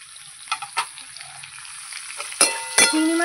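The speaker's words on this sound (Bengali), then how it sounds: "চিংড়ি মাছ ভাজাটা আমার হয়ে গেছে" Shrimp frying in hot oil with salt and turmeric in a pan, a continuous fine sizzle and crackle with a few louder spits and scraping stirs toward the end, close and unaccompanied by talk.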